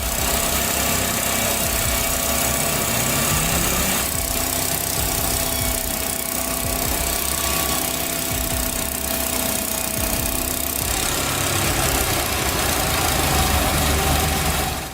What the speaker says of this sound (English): LumberPro HD36 is a portable sawmill that can handle logs up to 36 inches.